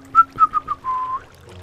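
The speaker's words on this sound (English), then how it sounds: "I shouldn't whistle." A person whistles a short tune up close and loud, a few quick rising notes followed by one held tone, with nothing else heard around it.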